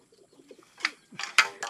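Racing pigeons at a loft on race day give a few soft, brief coos, followed by brighter fluttering calls close by, all within under two seconds.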